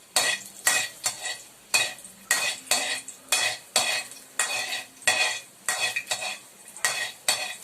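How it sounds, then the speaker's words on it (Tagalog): Garlic sautés in a pan while a utensil scrapes and stirs it in quick repeated strokes, close and rhythmic over a soft sizzle. "Magsisa po muna tayo ng ating Garlic."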